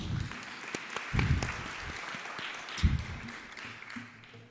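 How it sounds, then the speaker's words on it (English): An audience claps at a university welcome ceremony in Nairobi, a steady broadband patter with a couple of louder surges, fairly close and uninterrupted. "Clap for Melvin."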